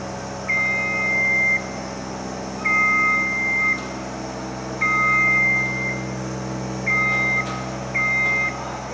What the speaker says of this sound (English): Now we hear the alarm sound.